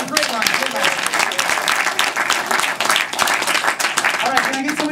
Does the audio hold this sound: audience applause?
yes